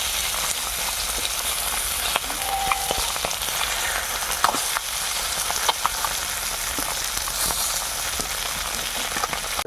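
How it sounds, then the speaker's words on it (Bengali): Koi fish frying in oil for a village-style koi curry with spinach, a steady broadband sizzle with scattered pops and crackles running the whole time, close and fairly loud, with no talking. "এখন আপাতত কই মাছগুলোকে উল্টে পিল্টে না ভেজে নেওয়া হচ্ছে।"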